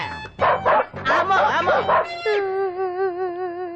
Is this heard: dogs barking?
yes